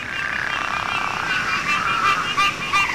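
A dense chorus of frogs trilling and croaking together at a vernal pool, steady and fairly loud, with no voices over it.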